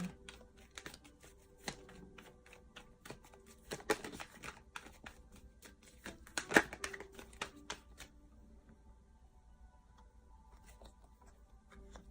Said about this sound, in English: I feel the need to still shuffle.